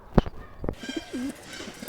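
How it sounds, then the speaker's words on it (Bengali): A pigeon of the gull-like 'gangchil' show breed gives a couple of soft, low coos close by, following a few short sharp knocks, with a faint background hum and no talking. "এটা একটা গাঞ্চির কবুতর"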